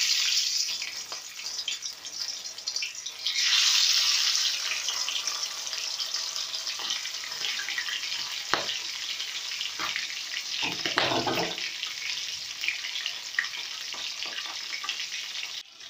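Dhakai hilsa fish fries in hot oil on a low flame, a steady close sizzle with a few brief clatters and stirring sounds, no voices.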